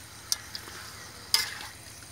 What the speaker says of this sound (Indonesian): Aduk supaya bumbunya merata